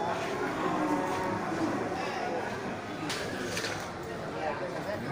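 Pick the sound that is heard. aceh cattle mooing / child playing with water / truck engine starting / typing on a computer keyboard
aceh cattle mooing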